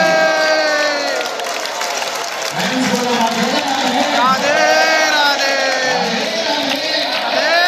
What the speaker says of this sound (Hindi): एक बार सब प्रेम से ताली मार के राधे राधे